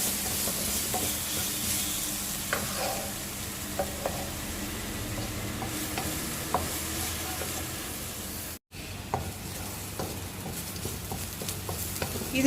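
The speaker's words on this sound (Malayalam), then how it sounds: "മീഡിയം ഫ്ലെയിമിൽ 1 മിനിറ്റ് വഴറ്റുമ്പോഴത്തേക്കും അതൊരു ഗോൾഡൻ കളറായിട്ട് വരും" Stirring and sautéing in a pan over a medium flame while cooking Kerala pork pepper roast: a continuous soft sizzle with scattered scraping stir strokes, close and fairly quiet, briefly cutting out once.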